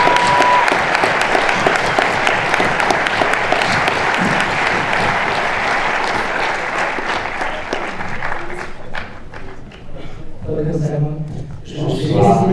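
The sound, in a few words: audience applause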